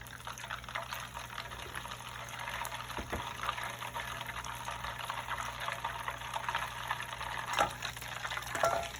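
Brown butter bubbles and crackles in a pan, a steady close-up fizz of popping with a few sharper pops standing out near the end.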